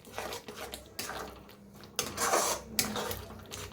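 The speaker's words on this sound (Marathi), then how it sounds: "मिक्स करून भाजून घेऊया." Spice masala of garam masala and red chilli powder being mixed and roasted in a pan for a brinjal (vangi) dish, with repeated scraping and clinking of a spoon against metal in irregular bursts, fairly close, no talking.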